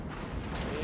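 Battleship guns fire in the naval combat game World of Warships, a single deep, rumbling artillery boom that fills the short moment, heavy and dull rather than sharp.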